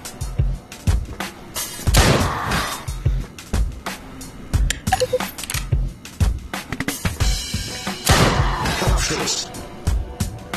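Bursts of gunfire ring out in the VR shooter Drop Dead: Dual Strike, loud rapid volleys and impacts clustered near the start and again later, mixed with game sounds and a voice talking.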